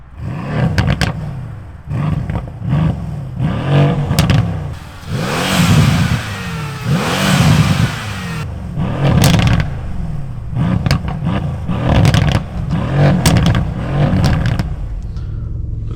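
A 2015 Mercedes C63 AMG Estate with a 476 hp 4.0 BiTurbo engine, driven in Sport Plus, accelerates loudly in repeated revving pulls, its rumbling note rising and falling through several gear changes, with no talking.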